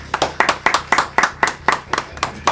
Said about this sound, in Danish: Så bliver der klappet.